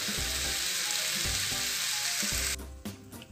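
Chicken spring roll filling fries in a pan with soy sauce and vinegar, producing a loud, steady close sizzle with faint stirring knocks, which cuts out sharply near the end as the heat goes off.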